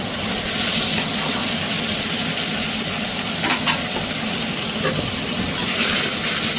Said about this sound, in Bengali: তেলটা গরম করে পনিরের টুকরোগুলো এর মধ্যে দিয়ে দেবো।